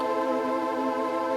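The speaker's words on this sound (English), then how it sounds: "That was mainly with the phaser and the reverb." A synthetic vocal pad treated with phaser and reverb holds one steady, sustained chord, a smooth atmospheric wash set in the background of a production, with no voices over it.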